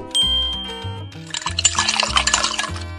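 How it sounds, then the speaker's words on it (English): Warm water poured into a blender, a short burst of splashing, gurgling liquid after a stretch of background music tones, close and moderately loud. "Then pour warm water into the blender."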